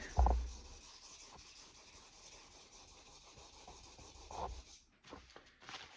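A Hinoura petty knife is drawn across a whetstone, producing steady close abrasive scraping strokes with a couple of louder knocks and a brief pause near the end.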